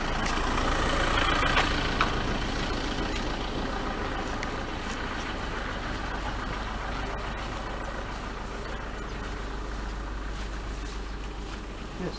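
A car engine left running while idling beside a sea wall on Canvey Island gives a steady, low, unbroken rumble that holds at even loudness throughout, with no voices.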